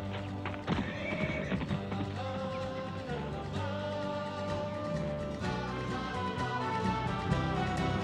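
Horse hooves clip-clop in a steady rhythm, with a horse whinnying amid a busy background of other sounds.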